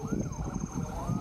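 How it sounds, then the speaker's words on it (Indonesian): A police escort siren sweeps up and down over a busy mix of engine noise and voices on a road leaving Mangkunegaran in Solo, Indonesia, fairly loud and close. "Sirine polisi pembuka"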